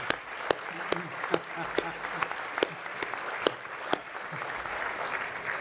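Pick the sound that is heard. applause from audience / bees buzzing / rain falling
applause from audience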